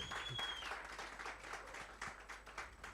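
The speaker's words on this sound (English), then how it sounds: "Ladies and gentlemen, let's give him a round of applause." Faint, somewhat distant applause from a small audience at a networking workshop, a soft patter of clapping with some individual claps standing out, over low background hum and a brief tone.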